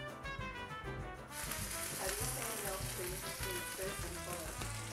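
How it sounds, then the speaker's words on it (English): Vegan balls sizzle and crackle in a hot frying pan, the frying growing louder after the first second and continuing steadily. "Start frying up some balls."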